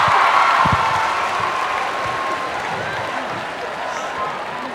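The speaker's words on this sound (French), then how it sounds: "Applaudissez pour vous-même, s'il vous plaît." A theatre audience at a beauty pageant show applauds itself, a steady wash of clapping and crowd noise that stays fairly loud throughout, with faint voices mixed in.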